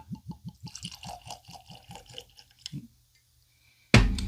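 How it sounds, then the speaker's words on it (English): New Riff gin glugging out of a freshly uncorked bottle, a rapid rhythmic series of gurgling pulses for nearly three seconds, close and clear, then a short silence before a loud noise. "Go ahead and get that pour on."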